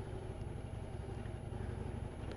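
A Harley-Davidson Road Glide with its 103 cubic inch engine idles in a low, steady, even rumble, faint and unbroken throughout.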